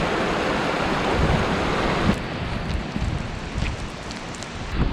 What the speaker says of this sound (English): And that's a creek here.